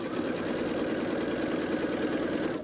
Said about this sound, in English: put it under my presser foot, and sew